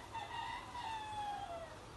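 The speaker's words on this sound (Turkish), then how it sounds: "Burası bir tavuk çiftliği." Chickens cluck and call faintly at a distance over a steady low hum, at a poultry farm shed.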